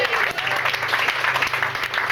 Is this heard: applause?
yes